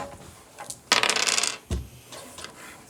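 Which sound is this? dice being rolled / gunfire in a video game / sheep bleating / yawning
dice being rolled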